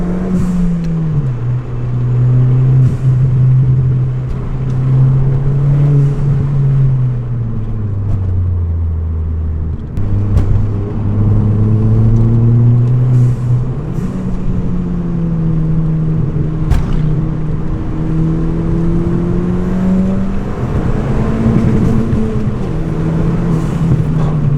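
Ford Fiesta ST 1.6 litre turbo hot hatch accelerating hard, engine note climbing through the revs, dropping at a gear change near the middle and climbing again, loud and close from inside the car.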